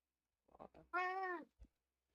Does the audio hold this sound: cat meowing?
yes